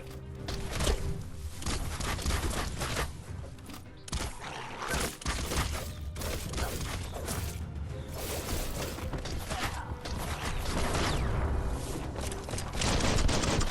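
Dense, continuous Biomutant combat: repeated gunshots and booming impacts mixed with whooshes and mechanical clatter over a busy game soundscape, steady and loud throughout.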